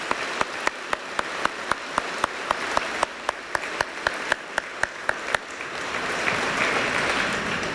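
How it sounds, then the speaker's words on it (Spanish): During a state governor's address, an audience first claps in a steady rhythmic beat, then breaks into a broad, continuous round of applause that carries on for several seconds. "A todos ellos, compañeras y compañeros, démosle un aplauso desde aquí"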